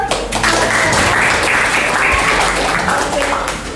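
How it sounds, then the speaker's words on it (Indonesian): Audience in a classroom giving a round of applause, steady dense clapping from a group, close and continuous for a few seconds. "Beri aplaus buat."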